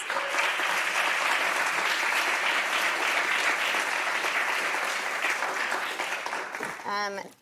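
Sustained applause from a large audience for a panel at an ocean science event fills the room, steady and loud before tapering off, with a voice speaking at the very end.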